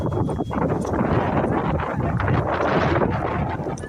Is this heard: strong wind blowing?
yes